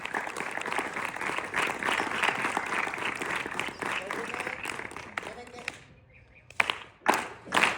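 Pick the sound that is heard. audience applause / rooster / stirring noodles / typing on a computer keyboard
audience applause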